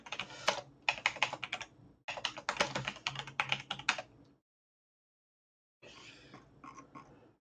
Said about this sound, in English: I cannot type today for some reason.